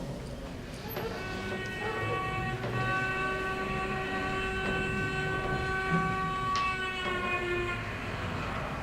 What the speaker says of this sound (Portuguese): o que aconteceu com o som da buzina deste carro, quando ele vinha se aproximando e depois se afastando?